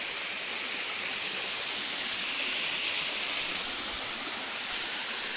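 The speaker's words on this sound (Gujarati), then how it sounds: "આ છે નાનો ધોધ." A small waterfall with fresh, cold water, producing a steady close rushing hiss of falling water that holds evenly throughout.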